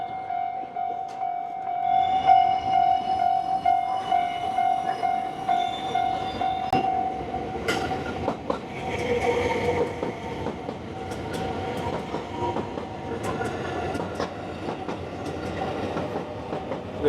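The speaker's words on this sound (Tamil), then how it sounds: "electric train" An electric train passes a level crossing with barriers down in Osaka, Japan. A steady tonal warning hum comes first, then the rolling rumble and clickety-clack of wheels builds and continues close by, with no talking.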